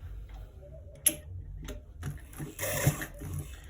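Sewing machine stitching a trouser left front pocket, a few short mechanical bursts and ticks over a low steady hum, fairly quiet and close.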